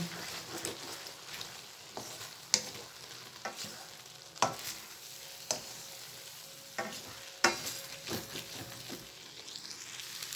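Hot oil sizzles steadily in a pan while a utensil scrapes and taps as stir-fried noodles with egg and peanuts are stirred, producing irregular sharp clicks throughout.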